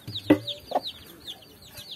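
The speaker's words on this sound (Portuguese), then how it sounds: "uma galinha aqui cheia de pintinho" A hen with a brood of eight chicks clucks a couple of times up close while the chicks peep in quick, high, continuous chirps around her.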